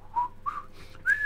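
A person whistles a few short rising and gliding notes of the Andy Griffith Show theme, a thin solo tune with brief gaps between phrases.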